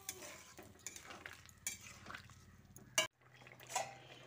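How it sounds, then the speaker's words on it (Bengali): A spoon mixes a spice tempering into a raw banana and potato curry in a pan, making quiet scraping and stirring sounds with a faint sizzle, ending in one sharp clank against the pan. "তারপর আলু ও কাঁচা কলার সঙ্গে ফোড়নটাকে ভালো করে মিশিয়ে নিচ্ছি।"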